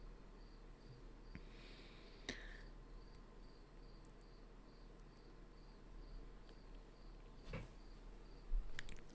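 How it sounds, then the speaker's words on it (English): Crickets chirping outdoors heard through an open window, a faint, steady pulsing trill repeating evenly throughout, with a couple of soft knocks and rustles nearby. "Hear the crickets?"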